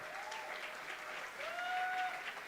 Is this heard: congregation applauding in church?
yes